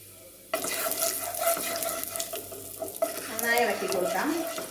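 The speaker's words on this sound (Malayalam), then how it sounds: "നന്നായി ഇളക്കി കൊടുക്കാം." Turmeric, coriander and chilli powders being stirred into hot oil for Kerala-style palak paneer, a steady sizzle starting abruptly after a quiet half-second, with a spoon scraping through it and a brief voice near the end.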